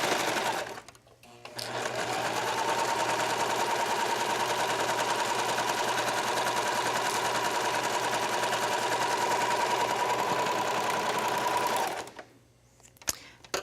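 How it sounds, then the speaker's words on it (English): A serger sewing machine stitches fabric in one long, steady run of about ten seconds, close and even, starting and stopping cleanly with quiet gaps on either side. "when you're sewing with the serger that you're not pulling or stretching the fabric"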